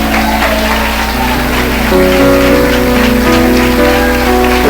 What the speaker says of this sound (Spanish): Vamos, aplauda al Rey de Gloria.